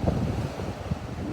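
Steady ocean surf and gusting wind rush past a beach pier, loud and broadband, with wind buffeting the microphone throughout.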